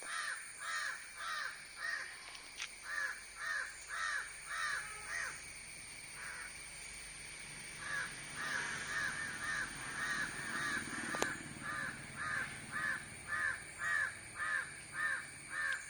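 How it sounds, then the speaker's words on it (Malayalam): Parent crows guarding a flightless baby crow caw repeatedly outdoors in a steady, insistent rhythm of harsh calls, fairly close, with a short quieter stretch midway before the cawing resumes. "കാക്കയും അപ്പം കാക്കയും അമ്മക്കാക്കയൊക്കെ ഇവിടെ ഉണ്ട്."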